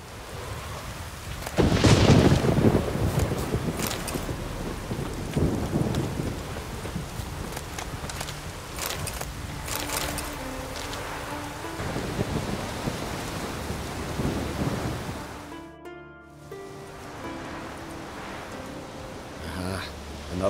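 Thunderstorm in The Witcher 3 video game: heavy rain hisses steadily while a loud thunder rumble swells early and rolls on, with horse hooves clopping and brief speech before the rain quiets near the end.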